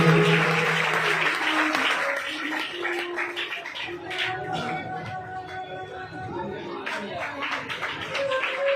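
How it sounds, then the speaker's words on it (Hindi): A crowd at a Hindi religious discourse gathering claps loudly to welcome a political party's state president. The applause is dense and continuous, with voices and some tonal sounds mixed in over it. "जोरदार तालियों से स्वागत करिए"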